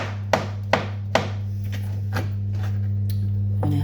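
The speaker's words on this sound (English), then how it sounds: "I'm then removing the stone, and again just slicing," A knife slices a peeled, pitted avocado on a cutting board with three crisp, evenly spaced chops, followed by softer, fainter cuts and a brief scrape. A steady low electrical hum runs underneath throughout.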